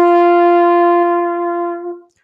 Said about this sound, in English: If I play it on the trumpet, it sounds like this.